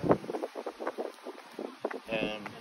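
Gusty wind buffeting the microphone outdoors at a farmers market, rumbling in uneven bursts while a person talks over it.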